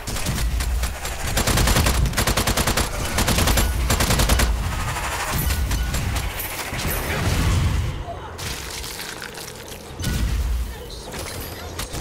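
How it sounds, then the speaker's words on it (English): Rapid bursts of gunfire from the horde mode of the video game Strange Brigade, loud machine-gun rattles and repeated shots in dense volleys, with talk in between. "let's just gun him down"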